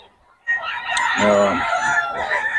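Roosters crow at a chicken seller's stall in Bocaue, starting after a brief quiet and building into a loud, dense crowing call with clucking fowl around it, close and busy.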